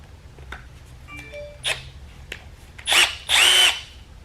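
After a few scattered clicks and taps, a power drill turning a reamer whirs in two short bursts, close and fairly loud.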